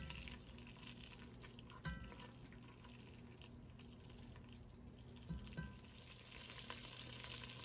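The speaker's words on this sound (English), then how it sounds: "in this pot, I am melting my butter" Butter melts in a pot over low heat for potato soup, giving a soft, steady sizzle with a couple of small clicks from the pan, moderately quiet and with no talking.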